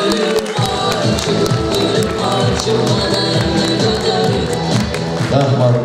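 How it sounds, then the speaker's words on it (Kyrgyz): University deans in an audience at a Kyrgyz singing talent contest clap and cheer together, a dense, sustained burst of applause with crowd noise and whoops filling the hall, music-like tones running underneath. "Декандар гана кол чабып берсе."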